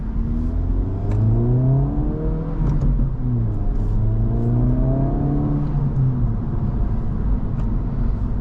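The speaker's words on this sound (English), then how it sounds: "the exhaust sounds amazing. I love the pops and crackles it gives" Exhaust of a 2025 Acura Integra Type S climbing through the revs under acceleration, a close, steady drone that rises repeatedly in pitch as it pulls through the gears, with no talk over it.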